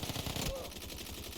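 Rapid gunfire in a shooter game near school buildings and apartments, a dense, fast rattle of shots that runs steadily through the whole clip and stays fairly loud.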